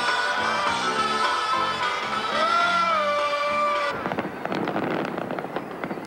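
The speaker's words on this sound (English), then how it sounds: "a spectacle of fireworks pierced the frost and snow of night, setting the Kremlin ablaze" Fireworks bursting over Red Square by the Kremlin in Moscow on a frosty, snowy New Year's night, a dense run of cracking explosions and pops that takes over after a stretch of music in the first four seconds.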